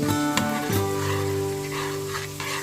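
Coconut milk simmering down in a pan for Bicol Express gives a steady, close, loud sizzle and bubbling that runs the whole time, with a brief clatter near the start.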